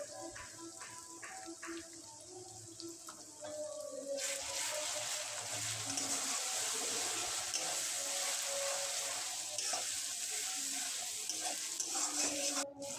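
Powdered spice masala of turmeric, cumin, coriander and red chilli frying in a pan for chicken curry sizzles close by. It starts with light scraping and clinks, then turns to a louder, steady hiss after a few seconds.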